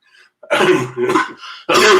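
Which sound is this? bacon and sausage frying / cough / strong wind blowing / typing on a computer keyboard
cough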